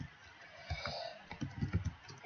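Rapid keystrokes on a computer keyboard as CSS code is typed, a short, quiet burst of close clicking taps.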